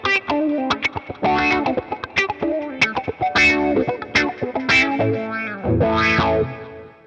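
An electric guitar played through a Boss Katana amp on a clean auto wah patch gives sweeping, vowel-like filtered notes and chords in a lively riff, loud and close with no talking.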